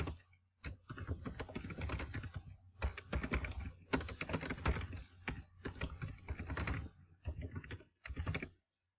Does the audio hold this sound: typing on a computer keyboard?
yes